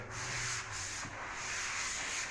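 Drywall walls in a dusty house renovation are sanded by hand, producing a continuous close, loud, rough scraping hiss with slight rhythmic strokes and no talking.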